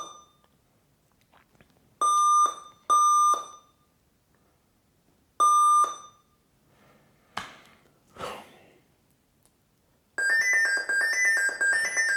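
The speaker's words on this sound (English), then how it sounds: "And so that's the beeping code I'm getting." An Alienware Area 51 computer sounding its 3-2-1 error beep code: sharp, loud electronic beeps in short groups separated by pauses, along with a few handling knocks and a longer warbling tone near the end.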